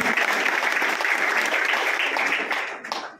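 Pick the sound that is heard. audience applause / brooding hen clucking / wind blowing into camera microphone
audience applause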